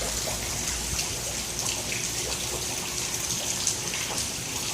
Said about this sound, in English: That water level's receding a bit as the rain calms down.